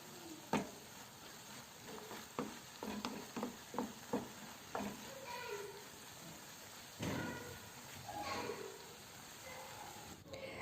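Eggplant cooks in a covered pan, a steady low sizzle and hiss running underneath with scattered clinks and taps of stirring spread through the stretch, moderately quiet and close.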